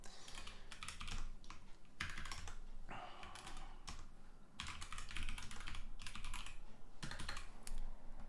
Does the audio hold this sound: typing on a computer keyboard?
yes